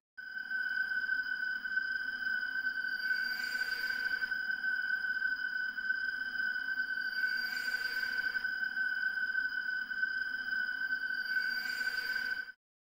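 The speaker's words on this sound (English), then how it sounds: "And then there's the addition of the track that plays when a threat is close." Danger ambience from Five Nights at Freddy's 3 that plays when a threat is close: a steady, high electronic tone held throughout, with a noisy swell that rises and fades roughly every four seconds, loud and alone.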